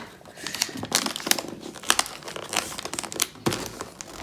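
Gift wrapping paper is folded, creased and taped down, with bursts of close crinkling and crumpling paper and short tearing-like rustles in an uneven rhythm, with no talking.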